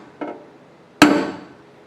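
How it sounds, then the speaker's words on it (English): A pin-style hammer taps a high spot on car bodywork during panel straightening: two sharp metallic knocks close up, a softer one followed by a louder ringing strike with a short decay, no talking. "I use a pin style hammer like this. I put it on where it's too high, and then I tap it"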